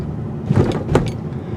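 A 2021 Hyundai Sonata rolls over a speed bump, giving two soft, muted thumps in quick succession over a steady low road rumble inside the cabin.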